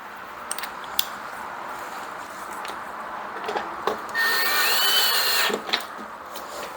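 Power drill briefly driving screws into a lawn mower cover on a Craftsman Platinum mower, a short steady whir following scattered clicks and handling knocks, close and fairly loud.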